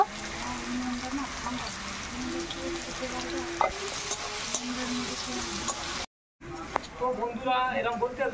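Fish curry ingredients with potatoes frying and being stirred in a pan, a steady sizzle with scraping stirs throughout, a brief silent gap, then louder hissing and bubbling; a person talks over the cooking.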